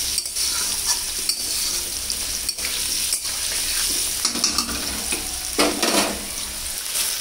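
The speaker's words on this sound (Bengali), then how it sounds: "আলুটা আর একটু ভেজে নিয়ে আমি এখান থেকে কিছুটা মশলা ওখানে দিয়ে দেবো কড়াইতে।" Potatoes fry and sizzle in hot oil in a kadai while a spatula stirs and scrapes them. The sizzle is loud, close and steady throughout, with no talking.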